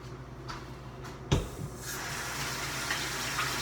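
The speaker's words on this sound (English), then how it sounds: "Keep washing your hands because you're dealing with poultry" A kitchen tap runs steadily while hands are washed after handling raw poultry, with a soft thump early on and a continuous close hiss of water filling the rest.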